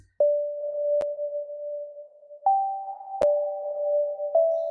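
A sparse, pure-toned lofi synth melody of a few sustained notes, each starting with a sharp click and ringing dry with no delay effect or echo.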